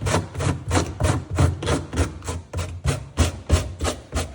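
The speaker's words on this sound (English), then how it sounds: "last step will be to just touch it up with some 80 grit sandpaper and make it look pretty" Coarse 80 grit sandpaper rubs back and forth over thigh hook foam on an Apex Ringer, giving about a dozen rhythmic, close rasping strokes.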